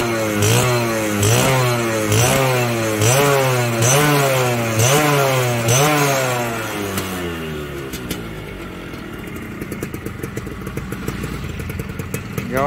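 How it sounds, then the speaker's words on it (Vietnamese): A Honda Future 120 motorcycle engine revs hard over and over in rhythmic rising bursts, loud and close, then drops back to a rough, clattering idle. "Rồi để nẹt cái thử máy cỡ nào nha."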